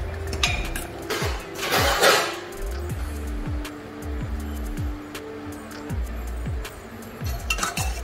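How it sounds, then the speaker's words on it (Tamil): Jaggery being stirred into a mango pachadi with a metal utensil: repeated clinks and scrapes against the vessel at an irregular rhythm, close and clear, with no talking. "இது கூட நம்ம அந்த ஜாக்கிரியை எடுத்து கலக்க போகிறோம்."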